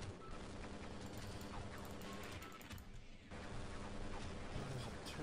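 Rapid automatic gunfire from a turret in the video game Half-Life, a dense continuous burst of shots with crashing impacts running loud throughout, briefly thinning before resuming.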